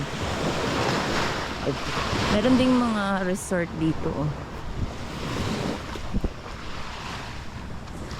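Sea surf rolling onto a beach in Zambales, a steady broad wash of waves with wind noise on the microphone, while a person talks briefly over it.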